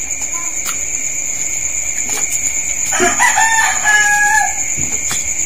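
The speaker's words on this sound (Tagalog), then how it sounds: "Laok na manok ah." A rooster crows loudly and close by, one long cock-a-doodle-doo, with a steady high insect drone underneath.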